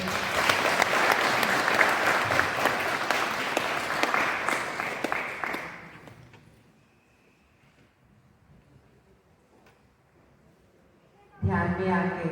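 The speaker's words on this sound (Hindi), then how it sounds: "सारे ध्यानियों को जोरदार तालियां बजाते" A large gathering of meditators claps loudly for several seconds, then the applause fades away into near silence before a sudden burst of noise returns at the end.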